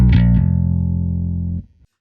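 Distorted electric bass plays a stoner doom line: a quick picked attack settles into one heavy sustained low note that rings for over a second, then cuts off.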